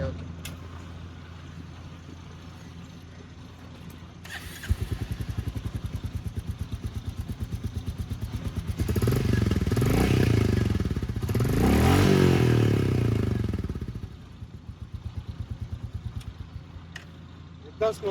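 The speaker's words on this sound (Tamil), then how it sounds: "தென் வாங்க எக்ஸாஸ்ட் நோட் வந்து பார்க்கலாம்." Royal Enfield Bullet 350 motorcycle exhaust burbling at idle, then revving up into a louder, throaty roar before dropping back to a lumpy idle; close by.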